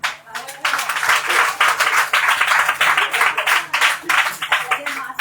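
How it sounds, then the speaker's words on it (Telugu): A meeting audience claps to welcome a speaker, with dense, steady applause from many hands sustained throughout, fairly close and loud. "అందరూ చప్పట్లు కొట్టి ఆహ్వానపరుస్తున్నారు"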